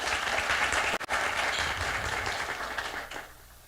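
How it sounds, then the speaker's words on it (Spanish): Audience applause at a panel event on FCPF results and REDD+ progress in Colombia: steady, dense clapping fills the room, briefly cut off near the second mark, then fades out at the end with no talk over it. "les voy a pedir un aplauso antes de que arranquemos"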